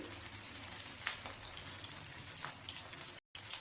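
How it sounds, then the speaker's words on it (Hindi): Mutton chops dipped in batter shallow frying in oil, a steady close crackling sizzle with scattered pops and a brief dropout near the end, and no talking. "चॉप्स को इस बैटर के अंदर डिप करें और फ्राई कर लें"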